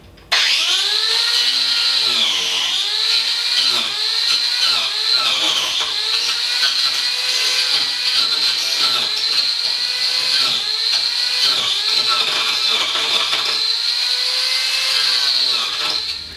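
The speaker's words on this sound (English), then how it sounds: "Alex is going to try carving some Catalox, which is a dense, hard," A power carving tool cuts into dense, hard Catalox tropical hardwood, a loud sustained high whine with rising and falling pitch as the cutter bites and eases, running steadily close up for the whole stretch without talking.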